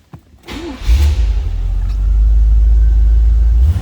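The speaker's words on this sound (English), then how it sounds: "Go ahead and fire this up so you can hear it run." A 1981 Chevrolet Corvette coupe engine cranks briefly, catches and settles into a loud, steady idle rumble close by.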